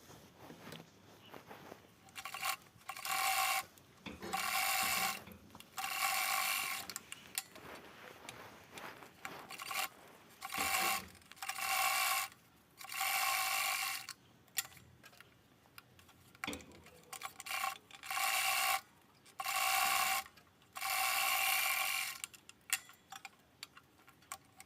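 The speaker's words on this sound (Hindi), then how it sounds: "पट्टी को फोल्ड करके रखेंगे और यहाँ पर सिलाई लगाएंगे।" Sewing machine stitching a folded 1-inch fabric strip onto a handbag, heard as repeated bursts of rapid mechanical clatter, each running one to two seconds with short pauses between, close and fairly loud with no talking.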